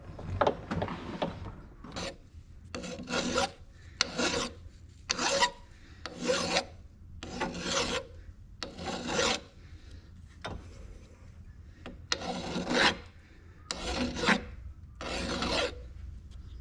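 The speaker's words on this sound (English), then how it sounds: "And we'll deburr these edges with a file too." A hand file deburrs metal edges in a workshop, making about a dozen long, even rasping strokes with short pauses between them, close and clear.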